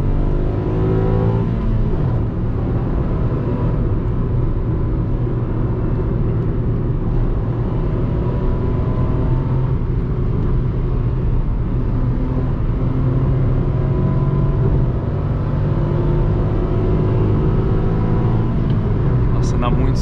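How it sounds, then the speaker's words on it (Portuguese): A 2020 Ford Ka Sedan 1.5 manual engine drones and strains steadily while accelerating on a highway, heard from inside, a loud low rumble holding throughout, with road noise underneath. "testando a aceleração do carro"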